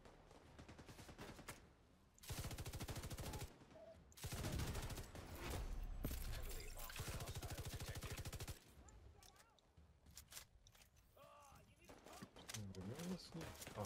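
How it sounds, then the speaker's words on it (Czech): Gunfire in the shooter game Tom Clancy's The Division 2 comes in sustained loud automatic bursts of several seconds, broken by pauses, with a person talking over and between them. "Teďka střílíš."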